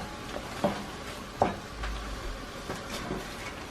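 Sausage and vegetables for spaghetti stirred in a frying pan, a quiet, steady sizzle with a few distinct scrapes and knocks of the utensil against the pan.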